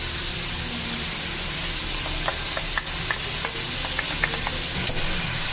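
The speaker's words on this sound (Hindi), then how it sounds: "अब इसको फिर से थोड़ा सा भून लेंगे।" Chicken with salt, ginger and garlic frying in a pan for chicken karahi, with a constant sizzle punctuated by several light clinks of a utensil against the pan.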